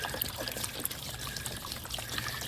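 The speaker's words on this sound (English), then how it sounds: "here's how I'm letting all this water out" Water drains out of a leaking backyard pond, a steady splashing pour and trickle running continuously at close range with no voices over it.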